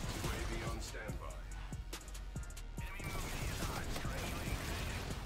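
Rapid gunfire in the shooter game Infinite Warfare, sharp repeated shots in bursts over a constant dense game soundscape, with a voice talking intermittently.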